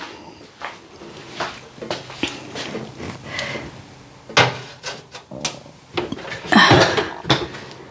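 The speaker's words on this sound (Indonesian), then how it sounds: "Kita masukkan cheesecake-nya ke dalam oven." A mini Toblerone cheesecake goes into a home kitchen oven amid a string of clattering pans, knocks and a door thud, irregular and close, ending in a louder metallic rattle.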